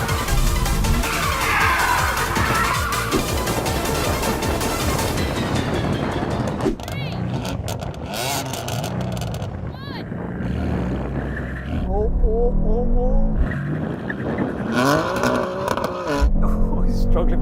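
A rear-wheel-drive performance car spins its tyres to warm them before a drag race, loud and continuous engine roar with rising revs and tyre noise, while someone talks over it.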